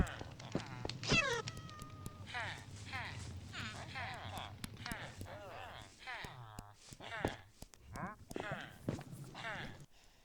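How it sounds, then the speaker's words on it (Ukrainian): Cats meow repeatedly in a Minecraft village, several short and drawn-out mews scattered among game footstep and clip-clop sounds, with a person speaking over parts of it. "О, ще один кіт."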